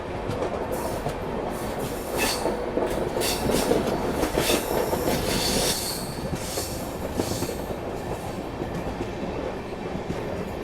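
A long-distance passenger train on the Mysuru to Varanasi route runs along the rails with a continuous loud rumble, rhythmic clatter and bursts of wheel squeal on curves, heard from inside the train without speech.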